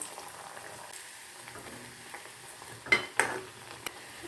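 Raw banana slices fry in oil over moderate heat with a soft, low sizzle, broken by a few louder crackles and splatters near the end.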